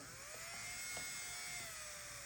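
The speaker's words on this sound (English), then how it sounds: "First, I'm gonna grab my drill." An electric nail drill running on thick acrylic nails gives a steady high whine throughout, with small scratchy contacts against the nail surface, fairly quiet and alone.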